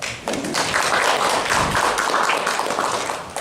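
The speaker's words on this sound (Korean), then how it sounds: "박수 부탁드립니다." Audience applause at a forum on public procurement and anchor institutions, a dense burst of clapping from a seated crowd lasting a few seconds, loud and steady before fading slightly.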